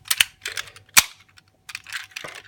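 Small electronic toy gun built into the front of a Pat-Kaiser police combining robot toy, firing in a few sharp cap-gun-like bangs with gaps between them, close and loud with no talking.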